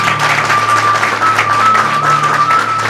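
An audience claps for the elders at a Vadeel Vandana ceremony held alongside a yagya, a dense, sustained round of applause with a faint tonal hum running under it.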